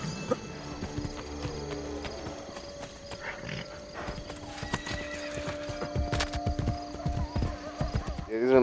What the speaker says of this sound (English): these are much slower, but they're like strong horses